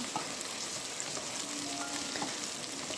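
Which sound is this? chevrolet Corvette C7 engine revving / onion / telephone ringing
onion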